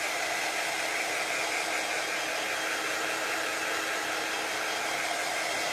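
A steady, loud blowing whir of a quick-dry heat tool drying a chalk craft stencil runs without pause, close and constant.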